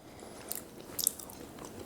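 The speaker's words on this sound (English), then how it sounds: "This little piece that burnt a little, it's going to be a little crunchy." A small, slightly burnt roasted chestnut is bitten and chewed up close, giving two quiet crunchy crackles in a row with soft chewing noises in between and no talking.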